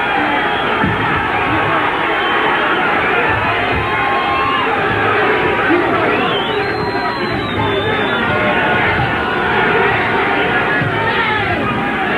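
A boxing crowd at a lockdown boxing night cheers and roars continuously, a loud, dense wall of shouting and chatter that holds steady throughout, with a few louder shouts rising above it.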